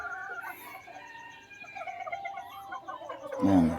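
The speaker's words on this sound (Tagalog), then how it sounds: "Ito yung isang Boston Roundhead natin mga guys. Puro ito." A purebred Boston Roundhead gamefowl clucks in soft, close calls over a faint rhythmic ticking, ending in a louder squawk.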